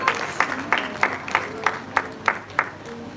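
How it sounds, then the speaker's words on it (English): Rhythmic clapping at a university meritorious service award ceremony, a regular beat of sharp claps roughly every third of a second over a low crowd murmur, with voices in the background. "Please put your hands together for her."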